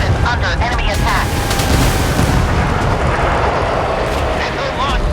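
Naval gunfire from warships in the video game Force of Warships: dense, continuous booming and rumbling at steady loudness, with voices heard over it.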